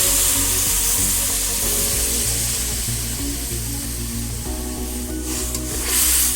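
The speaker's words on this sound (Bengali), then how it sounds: "এখন দিয়ে দিচ্ছি জল।" Water added to a sizzling pan of Bengali drumstick (sajne data) curry, a steady loud hiss and bubbling with a brief splashy surge near the end, no talking.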